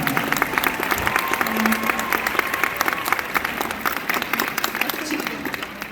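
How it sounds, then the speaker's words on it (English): Steady applause from an audience at a convention panel fills the room, broad and continuous clapping with a faint voice briefly audible underneath. "Everyone give a round of applause for Ruth Connell."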